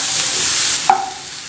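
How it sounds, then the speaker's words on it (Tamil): Onion, green chilli and curry leaves with a little salt sizzle loudly in a pan for under a second, then the hiss cuts off abruptly and a short scrape of stirring follows. "இது எல்லாத்தையும் போட்டு லேசாக வதக்கிக்கட்டும்."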